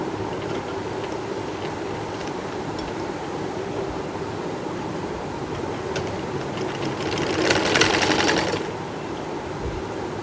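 Sewing machine stitching the back neck of a kameez, a continuous close mechanical whir with a brief louder surge near the end, no voices.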